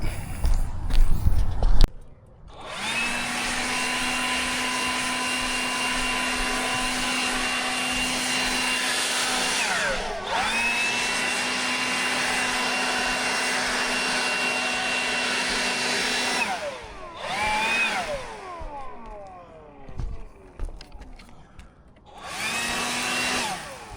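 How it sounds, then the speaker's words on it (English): A loud leaf blower whines in long steady bursts, blowing debris off a shingle roof, stopping and restarting a few times, with brief rustling in the gaps. "gonna go out the leaf blower, blow some of this stuff off"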